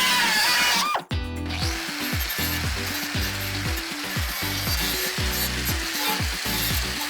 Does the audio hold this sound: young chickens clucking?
no